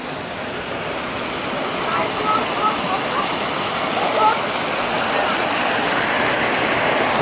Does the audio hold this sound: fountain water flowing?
yes